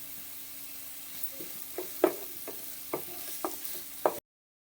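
Onions frying with a pinch of salt in a pan for an egg masala, a low steady sizzle punctuated by several sharp spatula scrapes and taps at irregular intervals. Close and alone, stopping abruptly.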